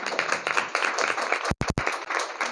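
An audience at a direct-selling motivational gathering claps hard on request, a fairly loud run of applause broken by a couple of short sudden pauses before it resumes.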